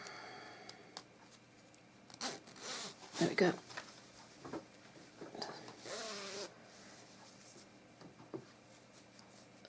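A zip on a knitted cardigan is drawn up in a couple of short rasping pulls, quiet and close, among soft fabric handling, with a brief spoken remark.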